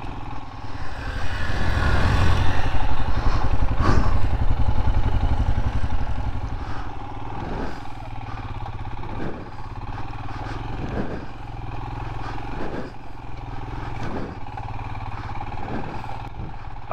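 A Royal Enfield Himalayan on original tyres drones steadily over loose sand in Tierra del Fuego, rising to a loud roar early on, then settling into a rougher, uneven rumble with periodic clatter and jolts.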